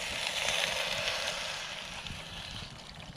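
Water is poured into a cooking pot over an outdoor campfire while a vegan peanut curry is being made, a steady broadband gush and trickle lasting the full few seconds at moderate level with no talk.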